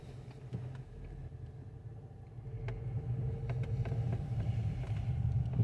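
An Infiniti car begins to drive off, a low steady engine and road rumble building gradually in loudness, with a few faint clicks and knocks and no talking.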